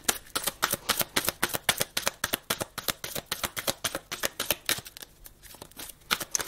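Tarot cards being shuffled by hand for a card reading make a quick, rhythmic run of crisp riffling clicks and flutters, close and fairly quiet, with no voice.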